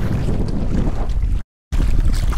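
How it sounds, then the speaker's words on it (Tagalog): Loud rushing wind buffets the microphone over strong sea waves churning and sloshing against a boat, with a brief dropout of total silence partway through. "Medyo lumalakas na ang alon, guys."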